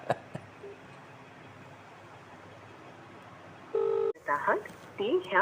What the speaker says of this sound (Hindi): फिर फ़ोन काट के भागा।